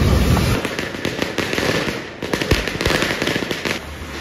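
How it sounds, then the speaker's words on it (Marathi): Diwali firecrackers going off in a street in Pune: a dense, continuous run of sharp crackling pops and bangs at varying distances, some close and loud, over steady outdoor background noise, with no talk. "मस्त इथे फटाके वगैरे उडवतात बाहेर लोक रस्त्यावरती."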